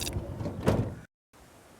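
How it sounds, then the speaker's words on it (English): A minibus emergency exit door swings with a rumbling, scraping thud, then a brief silence before a low background hum returns. "Simply close the door and then open it, and that works fine."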